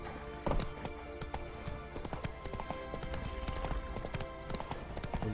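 Horse hooves clip-clopping at a steady trotting rhythm while riding in The Witcher 3: Wild Hunt, moderately loud with faint ambient game sound underneath.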